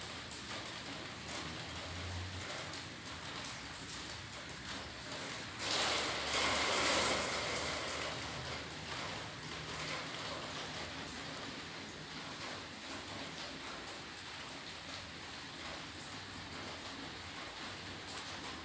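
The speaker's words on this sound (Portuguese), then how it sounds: "E muita chuva, graças a Deus." Heavy rain falls steadily behind an apartment building, a continuous broadband hiss with a brief louder surge midway, heard from a short distance with no talking.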